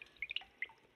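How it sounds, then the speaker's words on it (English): Water drips in a scary horror video game, several short, bright plinks at an uneven rhythm, fairly close and clear against a quiet background. "Drip."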